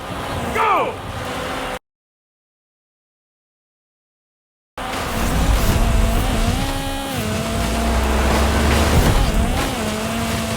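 A video game race car launches at the start of a race, its engine revving loudly and climbing through gears with faint tyre noise, after a brief spoken count and a moment of silence.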